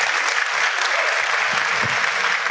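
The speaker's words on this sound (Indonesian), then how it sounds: "Aplaus dulu untuk Bapak Ibu semua." A live audience claps together for an Indonesian motivational seminar crowd, a dense steady applause filling the whole stretch with no voices over it.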